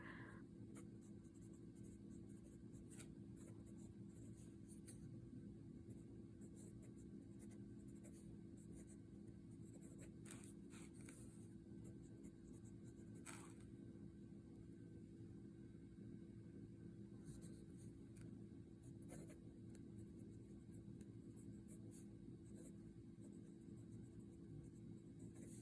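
A TWSBI GO fountain pen nib scratching across a Rhodia dot pad, soft and close, with light intermittent strokes over a steady low room hum, no talking.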